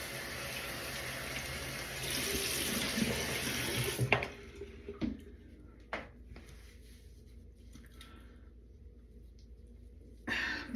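Tap water runs steadily into a bathroom sink during face washing to remove makeup, a broad close hiss for about four seconds, then stops, followed by scattered splashes and a brief burst of running water near the end.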